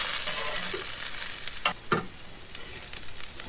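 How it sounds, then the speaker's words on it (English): Onions sizzle on a hot griddle, a steady bright hiss broken by a few sharp scraping clacks as a spatula flips them, with no voices. "I gotta flip those onions because I can't flip them enough"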